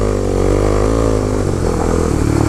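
A motorcycle on studded tires rides through snow, its engine a loud, close, steady drone that shifts pitch slightly as it pulls along, with no talking.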